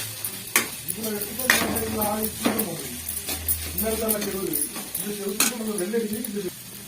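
Beetroot with added coconut is stirred in a pan, with repeated scraping clinks of a spoon against metal and a faint sizzle beneath someone talking throughout.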